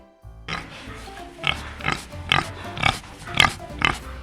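Pig grunting in several short bursts, spaced about a second apart, with light music playing underneath.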